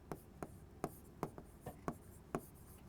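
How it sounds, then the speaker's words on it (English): Pen writing a name by hand on paper, heard as a series of sharp, separate scratchy strokes at an uneven rhythm, close and fairly quiet, with no talking. "Suppose if I have to write my name, sometimes I write like this, but most of the time I write it like this."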